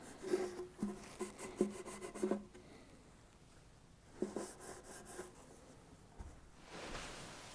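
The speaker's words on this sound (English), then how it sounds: "Once you put lemon oil on the fretboard and on the bridge, you'll need to wipe off the excess. I do that with a paper towel." A paper towel wipes excess lemon oil off a ukulele bridge, close and quiet, in two bursts of short rubbing strokes separated by a pause.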